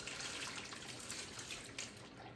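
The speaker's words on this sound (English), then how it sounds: "pour the hot water in portions, put it in a big Tupperware plastic pitcher, and pour it around the sides" Hot water poured from a large plastic pitcher around the sides of a tamale pot: a continuous soft splashing pour, fairly faint and steady for about two seconds, with no talk.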